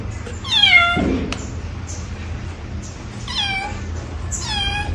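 A kitten that was hit by a vehicle and lost a front leg gives several close, high, wavering meows in short bursts, with a faint low background hum between calls.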